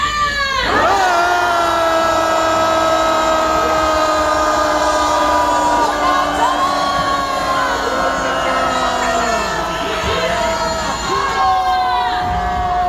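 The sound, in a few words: rally crowd shouting loudly for one minute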